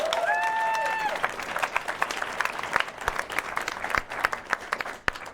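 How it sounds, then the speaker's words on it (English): An audience at a film festival awards show bursts into loud, dense applause right after a brief voice, the clapping rising, peaking and then thinning out over a few seconds. "Give a round of applause, everybody"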